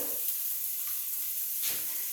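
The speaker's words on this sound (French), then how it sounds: "je vais rajouter un peu de beurre dans ma casserole pour décoller un peu les sucres de la viande." Butter sizzles in a saucepan as it loosens the browned meat sugars for a carbonade stew. The hiss is steady and moderately quiet, with a couple of soft stirring swells and no voices.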